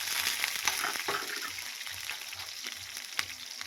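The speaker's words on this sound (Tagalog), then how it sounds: "So maglagay po tayo ng kunting mantika sa kawali at igisa natin itong mga sangkap." Ginger, onion and green chili sauteing in oil in a pan, for chicken tinola: a steady close sizzle with crackling pops and light stirring scrapes throughout.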